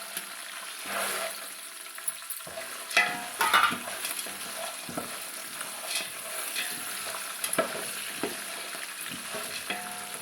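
Garlic cloves, green chillies and roasted gram fry in a hot oil tempering, giving a steady close crackle and sizzle broken by scraping stirs and a few sharper pops.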